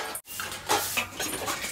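Metal dishes and utensils being scrubbed and scoured by hand, with a gritty rubbing sound broken by light clinks and clatters of pots and cutlery, close by and with no talking.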